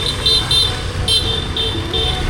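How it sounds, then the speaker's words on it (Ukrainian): Motorbikes crossing a busy intersection in Vietnam, with repeated short horn toots and beeps sounding in a quick irregular rhythm over a steady low rumble of traffic. "ви можете помітити, що вони всі сигналять. Вони, коли пересікають перехрестя, вони сигналять"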